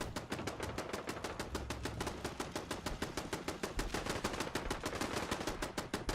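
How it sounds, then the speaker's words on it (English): Dense, continuous rapid gunfire from the video game Fallout 4, loud and unbroken automatic bursts with sharp repeated cracks filling the whole stretch, no talk over it. "there is shooting going on."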